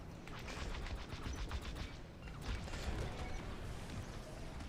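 Faint, distant rumbling of laser fire and explosions in a Star Wars Squadrons space battle around a large capital ship, a low, continuous crackling wash with soft bursts and no clear individual shots.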